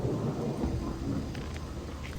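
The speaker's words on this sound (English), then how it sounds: "This rain already fucking with everything again." Heavy rain with a low, rolling rumble of thunder in the video game Gothic 2, a dense wash of falling water and deep booming that stays steady across the short stretch, with no voices over it.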